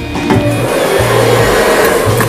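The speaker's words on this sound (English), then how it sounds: "We got our good old freestyle blow dryer." A Freestyle blow dryer roars steadily and loudly up close, a continuous breathy rush with a low motor hum, while it dries hair being styled into a faux hawk after a haircut.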